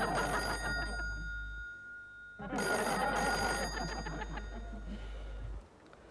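A telephone rings in a room as a call is placed to a police station, clear electronic ringing tones in two bursts separated by a short pause, with no talk over it.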